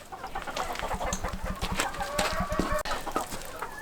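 Chickens cluck and squawk close by in a busy, overlapping chorus inside a coop of purebred pheasants, with the occasional rooster call mixed in.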